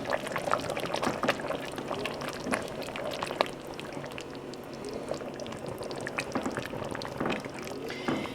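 Parmesan cheese being stirred into a creamy white lasagna soup in a pot, a continuous thick bubbling and sloshing with scattered spoon scrapes, close and moderately loud.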